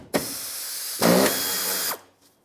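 A power tool, likely an impact driver or drill, backs 10mm bolts out of a 1996-2002 Toyota 4Runner rear bumper in two close, loud whirring bursts, the second longer and stronger.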